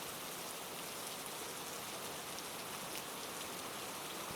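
Rain falls steadily on surfaces, a soft, even, continuous patter and wash without pauses or voices.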